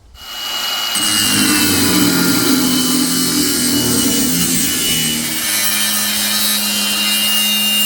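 Steady cutting through a radiator hose on a Mitsubishi Magna street stock car, a continuous close rasping scrape lasting several seconds with no talking.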